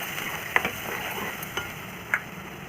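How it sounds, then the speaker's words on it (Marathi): A masala of tomato, ginger, garlic and coconut paste with turmeric, ground peanuts, sesame and whole spices sautés in oil with kasuri methi for stuffed brinjal, a soft steady sizzle broken by a few light stirring clicks. "कसुरी मेथी छान व्यवस्थित परतून घ्यायचं तेल सुटत सुटतपर्यंत"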